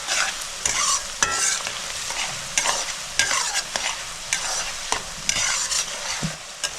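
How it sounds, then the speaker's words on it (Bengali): Chopped onion sizzles steadily in a hot pan for fish korma, stirred with repeated sharp spatula scrapes and clicks, close and fairly quiet, with no voices. "কুচানো পেঁয়াজটা আমি 2 মিনিট ভেজে নেব"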